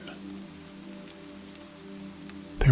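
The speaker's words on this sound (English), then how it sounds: "followed by torrents of rain" Torrential rain falls as a dense, even hiss over a faint low hum, then a sudden loud knock or thump at the end.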